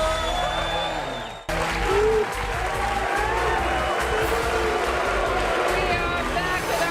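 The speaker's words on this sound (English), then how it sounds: "The audience cheering him on with chanting" Studio audience on the quiz show Who Wants to Be a Millionaire bursting into applause and cheering after a sharp cut from music, a loud sustained wash of clapping and shouts that holds steady.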